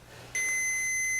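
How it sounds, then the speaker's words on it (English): A continuity tester's steady, high electronic beep starts abruptly and holds without a break, loud and close, while checking the ignition on a 1973 Honda CB750. "Right now the continuity beeper is beeping"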